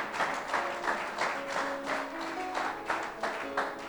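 A church congregation applauding in a worship hall, a steady wash of many hands clapping with rhythmic pulses through the whole stretch, moderately loud, with some voices mixed in.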